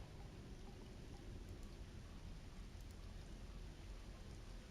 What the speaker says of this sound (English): Oh, raining outside.